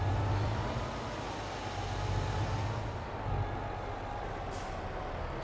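A lorry in a farming game drives along with a steady low diesel rumble and a faint whining tone, a short hiss near the end, continuous and moderately loud with no talk.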